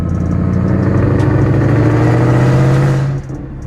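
A 2014 Shelby GT500 with an aftermarket exhaust accelerates hard in a loud, rising engine roar heard up close, then abruptly drops off as the throttle lifts near the end.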